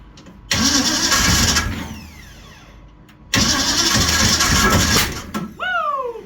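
A homemade tube-frame coupe's engine cranks and catches with a loud, rough roar, dies away after about a second and a half, then fires up again and runs hard for about two more seconds.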